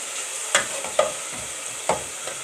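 Onion fries in hot oil with a constant hiss, broken by three or four sharp spoon taps and stirring scrapes, heard close with no voices.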